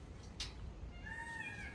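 A pet cat meows indoors at home, a short clear call with a faint higher cry just before it, heard alone over a quiet low background hum.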